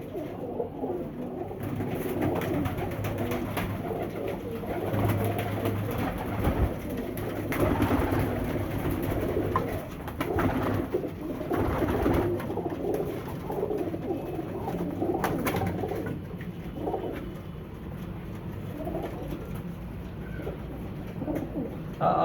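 Sialkoti pigeons in a loft coo softly and repeatedly over a steady, busy background rumble, the calls close but partly blended into the surrounding noise.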